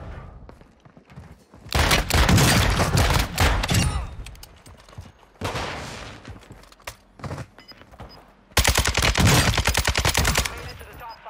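Gunfire in Warzone 2, with two long bursts of rapid automatic fire and scattered shorter bursts and single shots between, loud and close.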